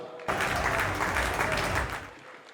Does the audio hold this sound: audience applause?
yes